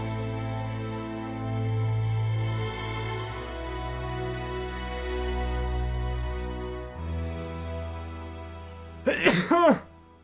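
A single short, sharp sneeze near the end, following a stretch of sustained tonal sound with people talking nearby.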